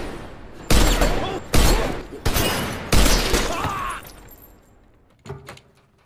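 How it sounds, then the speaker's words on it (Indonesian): Gunshots from a film scene fired repeatedly at one spot on a car's bulletproof window, four loud, close, separate blasts each with a crackling tail, then a quieter burst of impacts. "ia terus menembaki kaca di satu titik agar kaca mobil tersebut bolong"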